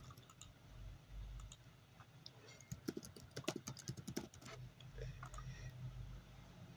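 Clicks of a computer mouse and keystrokes of typing on a keyboard at a desk, a scattered burst of sharp taps in the middle, with faint low room noise throughout.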